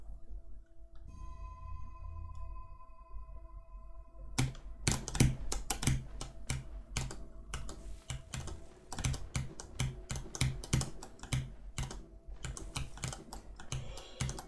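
Dense, fast typing on a computer keyboard during a game speedrun, with rapid clustered key strikes and forceful presses close to the mic after a quiet start with faint game tones.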